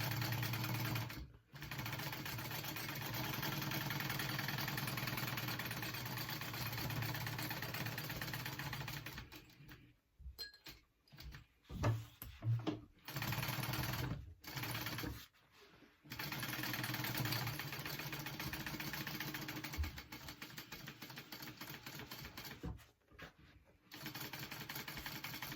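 Sewing machine running in long steady bursts while stitching vinyl handbag edges basted to foam, broken by brief pauses and short stop-start runs midway, close and fairly loud with no talk.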